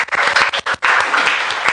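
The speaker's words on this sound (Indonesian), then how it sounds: "Boleh tepuk tangan untuk kita semua." Students in a classroom clap together for the class after a teacher's lesson, a loud burst of dense hand clapping with a few brief dips, close and continuous for under two seconds.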